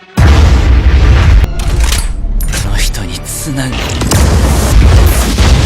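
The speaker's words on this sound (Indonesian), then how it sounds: "Setelah itu Mina langsung menembak kaiju tersebut." A loud, sharp blast fires in a Kaiju No. 8 anime battle scene, followed by booming rumble, bursts and dramatic effects filling the space with sustained heavy impact sounds.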